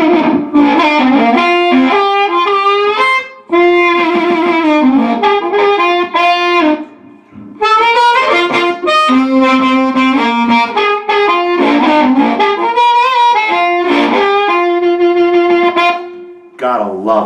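Harmonica played through a Fender Mustang amp modeling a low-wattage 1960s Sears guitar amplifier, loud distorted sustained chords and phrases with brief pauses between them.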